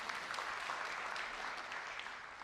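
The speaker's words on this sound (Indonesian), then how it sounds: "Tepuk tangan buat Tuhan." Applause from a church congregation, a steady, dense wash of many hands clapping throughout at moderate, distant-sounding level with no talk over it.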